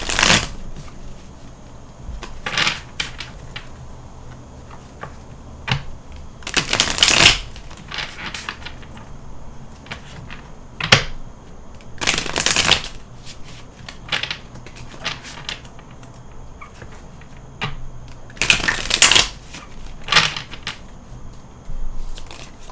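Oracle cards shuffled by hand in several loud, crisp riffling bursts separated by quieter rustling and handling, close up with no talking.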